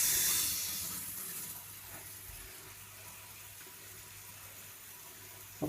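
Hot water gushes steadily from a household tap under strong pressure, a broad hissing rush that starts loud and settles to an even, continuous flow on its own.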